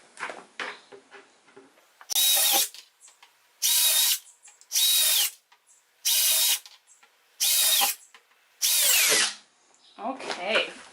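A power drill drills holes from the inside of a plastic 5-gallon bucket, running in repeated short, loud bursts, about six in a row with quiet gaps between, surrounded by small knocks and shuffling.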